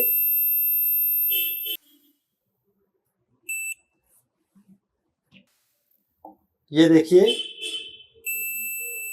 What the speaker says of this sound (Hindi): एक कंपोनेंट बीप दे रहा है, दूसरा कंपोनेंट बीप दे रहा है, तीसरा कंपोनेंट बीप दे रहा है